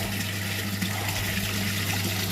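Water runs steadily into an aquaponics tank, a continuous rushing, gurgling flow at close range with a low hum beneath it and no pauses.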